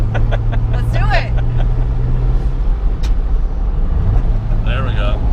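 A 1974 Datsun 260Z cruises in fifth gear at about 2,000 RPM, its engine a steady low drone heard from inside the car while people talk over it.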